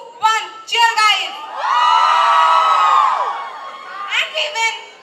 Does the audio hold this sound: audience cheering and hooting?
yes